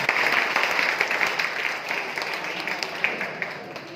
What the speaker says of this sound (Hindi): एक बार अपने लिए ताली आप लोग बजाएंगे